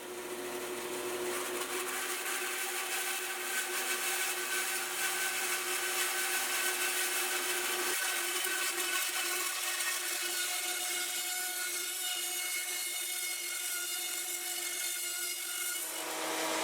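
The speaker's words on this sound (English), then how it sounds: "First I'll resaw a slice of about 400 thousandths off of a piece of" A power saw resaws a slice from a piece of walnut, roaring steadily through the cut for about sixteen seconds, the pitch shifting slightly midway, then stopping at the end.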